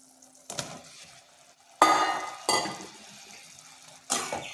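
Raw plantain pieces dropped into masala oil for a wedding-style fry, bursts of loud sizzling hiss flaring up several times, then settling between stirs, close by.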